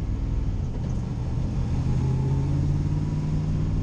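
Car engine accelerating through first and second gear with a clutch fault, a steady mid-pitched rumble with a rising tone, heard from close by with no talking.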